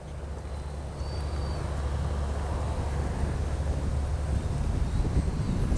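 Wind buffets the microphone at an RC flying field, a continuous low rumbling roar that stays steady throughout with no speech.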